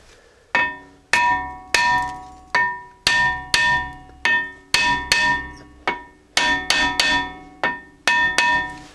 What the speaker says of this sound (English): I'm going to take a hammer on the surface right here